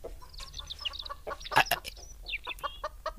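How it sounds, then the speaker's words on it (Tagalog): Chickens belonging to Kwarog cluck in short, busy bursts in a rural field, with several overlapping calls and a louder flurry midway, close by and with no talk. "Dagiting samot manok ni Kwarog dagita."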